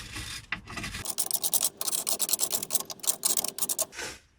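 Dirt is scraped out of the spring seat in the front suspension of a 1974 Chevrolet, a quick series of close, rasping scratch strokes in an uneven rhythm with short pauses and no talk.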